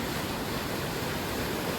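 Water flowing strongly near Manathal lake, a dense, even roar of rushing water, close and continuous with no pauses.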